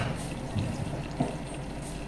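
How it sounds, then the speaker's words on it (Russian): Water poured into a pot of nearly done buckwheat on the stove, a soft continuous splashing trickle with a brief louder slosh partway through, close and fairly quiet. "Добавим чуток воды."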